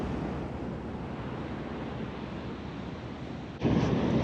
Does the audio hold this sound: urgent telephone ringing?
no